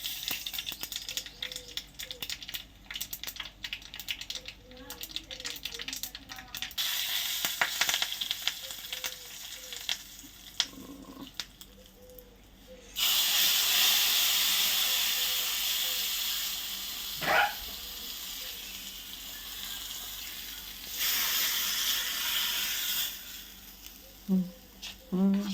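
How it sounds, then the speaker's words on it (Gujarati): Mustard seeds, cumin, asafoetida and dried chillies hit hot oil for an idli chutney tempering, giving loud hissing sizzle bursts that swell, hold for several seconds and fade, with quieter kitchen clatter between them. "રાઈ જીરું નાખીશું. તો હિંગ નાખીશું. સૂકા મરચાં નાખીશું."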